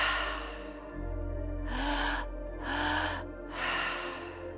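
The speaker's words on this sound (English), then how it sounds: "We'll take about another 2 minutes or so of this active breath." Rapid, forceful breaths in repeated bursts, three strong exhalation-like rushes after a softer start, close and fairly loud with a low hum beneath.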